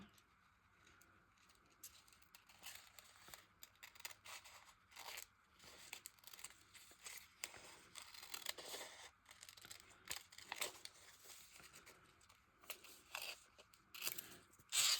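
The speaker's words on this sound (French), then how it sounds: "Je vais attraper mes petits ciseaux noirs pour bien détourer la phrase." Repeated crisp snipping and rustling of small black scissors cutting out a phrase from paper for a collage, close by, in an irregular rhythm with brief pauses.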